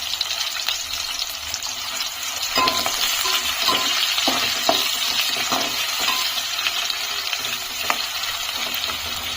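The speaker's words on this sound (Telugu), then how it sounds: "పచ్చిమిర్చి తరిగిన ఉల్లిపాయ ముక్కలు వేసి వేయించుకోవాలి" Green chillies and chopped onions frying in a little oil in a pan, a continuous crackling sizzle with scattered pops and occasional stirring clinks, close and steady throughout without talk.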